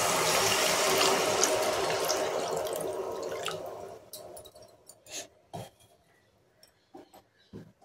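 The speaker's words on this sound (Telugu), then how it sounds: "పులుసు పోసేసుకుందాం" Tamarind juice pours into a simmering fish curry in a dense, rushing stream for several seconds, then tapers off into scattered drips and light clinks.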